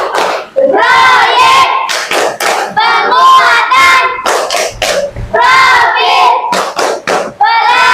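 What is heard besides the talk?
students' rhythmic clapping game Tepuk P5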